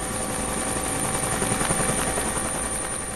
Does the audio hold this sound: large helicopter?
yes